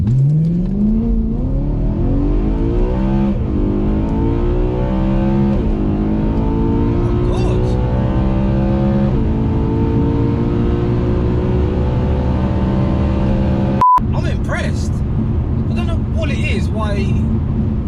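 A car launched hard in a 0 to 60 street-race run, the engine roaring loudly and climbing steadily in pitch through the gears, with a sharp break near the end before the noise carries on.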